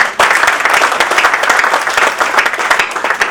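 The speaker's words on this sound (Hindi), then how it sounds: "तालियां कमजोर हैं।" Audience applause at a Hindi poetry recital during a music evening, a sustained dense wash of clapping from a sizable crowd, steady and fairly loud throughout.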